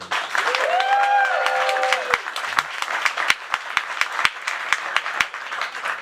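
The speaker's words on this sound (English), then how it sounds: "Now clap if you think, no, wokeness is not killing comedy." Scattered clapping rises from a debate audience casting a vote, first over a brief whistle-like tone, then thinning into a handful of separate sharp claps spaced out across the rest of the moment.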